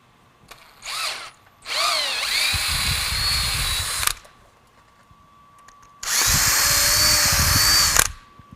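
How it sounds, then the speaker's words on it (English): A power drill bit from suction socket fabrication tooling bores out the center hole of a suction socket: a short whirring burst, then two long, loud, steady grinding runs separated by a quiet pause. "use another drill bit from the suction socket fabrication tooling in order to bore out the center hole"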